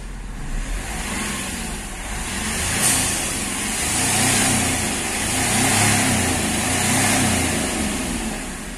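A Hyundai Xcent's engine runs steadily at idle with gentle rises in revs, recorded close by with no talk; the car earlier had a fuel rail pressure sensor fault and engine knocking.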